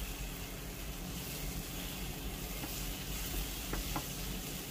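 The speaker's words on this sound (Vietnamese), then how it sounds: "Thì mình sẽ xào cho cà chua nó chín ha quý vị" Tomatoes sizzle and stir-fry in a pan for a vegetarian mushroom hotpot, a steady, dense frying hiss with occasional faint utensil scrapes, heard close and quiet.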